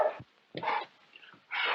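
A dog barks in short yelping bursts, three separate close barks with brief pauses between them, from an old 1934 film soundtrack.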